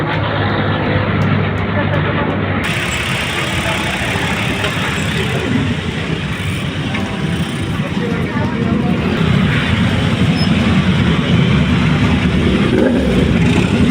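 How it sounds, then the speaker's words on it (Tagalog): Dense road traffic crawling through a packed crowd during Undas, engines rumbling and revving nearby in a constant heavy drone, with people talking over it throughout. "Ay, lala ng traffic."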